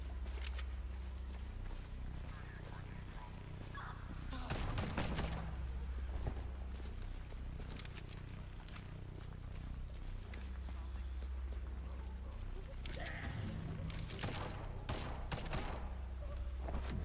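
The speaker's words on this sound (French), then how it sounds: "C'est moi qui tire, je tire à côté." Gunfire from the video game Liberated comes as a string of sharp, loud shots in irregular clusters over a steady background rumble, with no one speaking.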